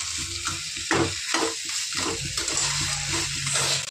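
Crab curry frying in a pan, loud steady sizzling with rhythmic scrapes and stirring strokes repeating close by, no talk.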